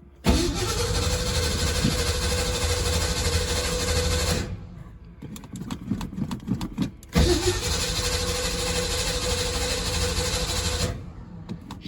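A 1980 Ford F100 engine cranking on a new starter, two long loud steady whirring bursts separated by a short pause without catching, with no voices.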